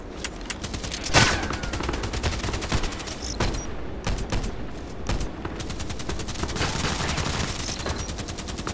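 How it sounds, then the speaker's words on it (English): Dense gunfire in the shooter Contract Wars, rapid automatic bursts and single cracks crackling continuously and loudly throughout, with no talk. "Man, they're shooting him."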